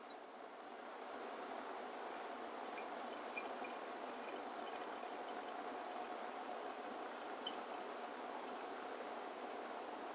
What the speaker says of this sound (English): I'm just going to top up water all the way to 150 grams.